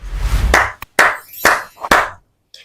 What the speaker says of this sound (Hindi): ये तालियां बजी हैं अरशद नदीम के लिए